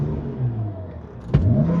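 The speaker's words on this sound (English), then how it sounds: "You could hear the turbo noises" A BMW E60 car with a turbocharged engine on a test drive, giving a steady mid-pitched engine drone with a brief sharp whoosh partway through, recorded from inside the cabin.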